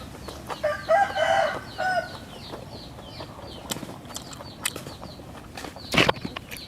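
A rooster crows loudly and close by in a Thai rural setting, one drawn-out call early on, followed by scattered clucks and short bird calls and a sharp sound near the end.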